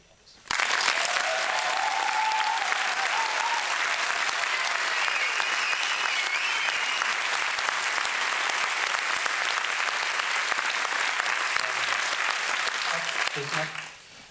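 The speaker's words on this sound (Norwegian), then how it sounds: "Og jeg vil gjerne at dere gir Dag Johan en ekstra stor applaus." Sustained audience applause at a film premiere red carpet event, a dense, steady wash of clapping from a large crowd lasting over ten seconds before tapering off, with a few faint voices and cheers mixed in.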